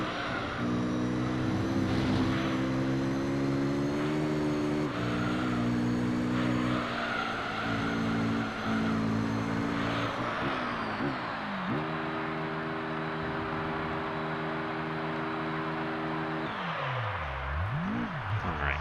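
Race cars in the racing game Gran Turismo 3, including a Mazda RX-7, with a loud, continuous engine whine that climbs and drops through gear shifts and corners alongside other cars, and occasional tire noise.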